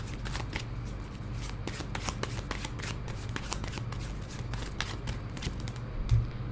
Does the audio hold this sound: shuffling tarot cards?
yes